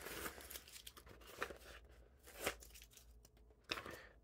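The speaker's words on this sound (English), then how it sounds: "let's get rid of this tape on the back now" Adhesive tape is peeled off the back of a layered vinyl decal in several short, quiet tearing and crinkling bursts, close and isolated in a calm room.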